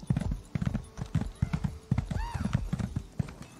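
Horse hooves clip-clop at a quickened riding pace in a video game, a steady near rhythm of thuds with a brief whinny-like tonal call in the middle.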